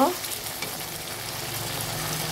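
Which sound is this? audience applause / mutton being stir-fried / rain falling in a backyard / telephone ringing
mutton being stir-fried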